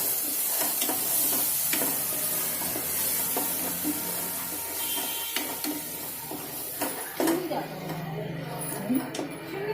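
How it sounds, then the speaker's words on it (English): A chicken curry paste fries in oil in a pan with a soft, steady sizzle, broken by scraping and clinking as it is stirred continuously, while a person talks over it. "You need to keep stirring continuously so that the oil oozes out from the mixture of this."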